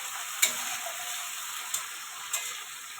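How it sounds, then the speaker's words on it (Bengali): Chopped onions frying in a pan, a soft, even sizzle throughout with three brief clicks of a stirring spoon spaced over a few seconds. "পেঁয়াজটা ভালো করে লাল লাল করে ভেজে নেব একটু"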